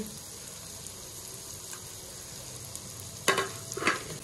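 Tomato and onion masala with salt sizzles in a pan, a steady close hiss that runs throughout, with a couple of sharper stirring scrapes near the end and no talking.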